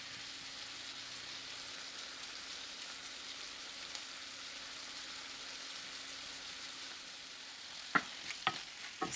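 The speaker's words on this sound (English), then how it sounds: "Stir everything together." Eggplant adobo, a Filipino dish, is stirred in a frying pan: a quiet continuous sizzle carries on under a low hum, then a few sharp scraping clicks from the spoon come near the end.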